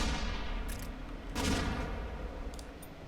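Skull Shot weapon firing in the video game ShellShock Live: a dense, booming burst of gunfire-like blasts that swells mid-clip, then gives way to a few lighter crackling pops near the end, with no voices.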